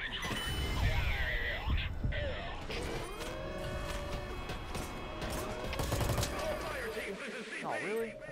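Bursts of machine gun fire in the Invasion Defense game crackle through a dense battle mix, with rapid repeated impacts, whooshing sweeps and other combat noise layered together at moderate loudness.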